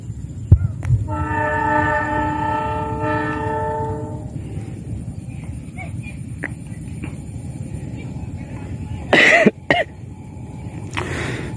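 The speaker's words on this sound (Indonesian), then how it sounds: "kereta apinya sudah terlihat teman-teman" A passenger train's horn blares steadily for a few seconds over the low rumble of the train passing among rice fields near Cepu, Indonesia. The rumble continues, and a cough breaks in near the end.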